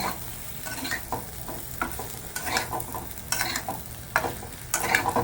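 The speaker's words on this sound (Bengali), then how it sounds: "আর এটা দিয়ে ভালো করে মশলাটা মিশিয়ে নেবো আলুগুলোর সাথে।" Turmeric, cumin powder and spices being stirred into potatoes in a pan for a hotel-style aloo torkari, repeated scraping strokes over a soft sizzle, close and unhurried, with no talk.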